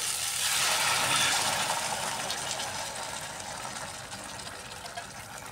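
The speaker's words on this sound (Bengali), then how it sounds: "এবার আমি দিয়ে দিচ্ছি গরম জল।" Hot water gushes into a cooking pot for a cauliflower, potato and soybean vegetarian dish, a steady close pouring rush that swells early and then slowly eases.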